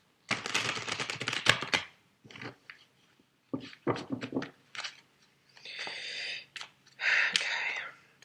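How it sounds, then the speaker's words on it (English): Tarot cards are shuffled up close in quick bursts of crisp riffling and slapping, separated by short pauses, with a few softer rustles between. "give it another shake out,"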